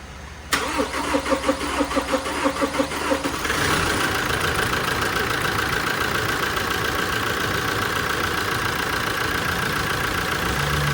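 A Toyota Innova 2.8 diesel engine cranks with a rhythmic, pulsing starter churn for about three seconds, then catches and settles into a steady, close, loud diesel idle.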